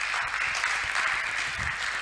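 Audience applause in a church: a steady wash of clapping from a crowd, sustained and even throughout, with faint voices underneath.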